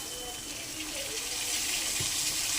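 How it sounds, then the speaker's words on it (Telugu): Water is poured into a pan of tomatoes with salt and turmeric for upma, a steady gushing splash that grows slightly louder as it goes on. "కాస్త వాటర్ పోసుకుందాం."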